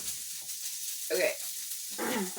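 Dinner sizzles softly in a pan under a steady hiss, with two short bursts of stirring or scraping, close by and fairly faint.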